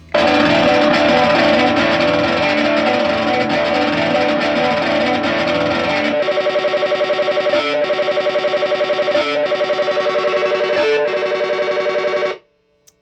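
A loud, distorted music sample blares through a guitar amp, dense and buzzy at first, then pulsing in regular chopped stutters before cutting off abruptly.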